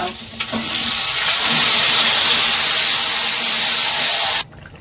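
Chicken stirs and fries in a hot pan, a loud, dense hissing sizzle that swells after the first second and holds steady, then cuts off abruptly near the end; no one speaks.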